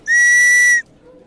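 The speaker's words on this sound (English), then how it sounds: "when I blow my whistle" A single sharp, high-pitched whistle blast sounds loud and close for under a second during a broom-flying lesson, then cuts off to near silence.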